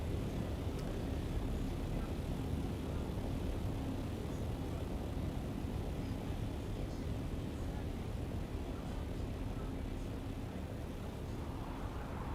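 Aircraft engine drone from a flying craft in the video game Dune Awakening: a steady, broad, rumbling hum that holds at an even level throughout with no talking.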